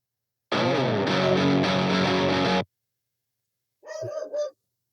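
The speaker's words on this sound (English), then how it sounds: "Got the guitarist to just perform a massive guitar slide there." A heavily distorted electric guitar slides in pitch for about two seconds, then after a pause a dog gives a short bark.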